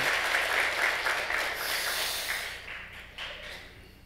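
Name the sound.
applause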